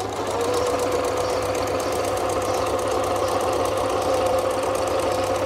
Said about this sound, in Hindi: अब इसकी स्टिचिंग करके दिखाते हैं, स्टिचिंग कैसे करते हैं। ये सादा सिलाई हम करते हैं।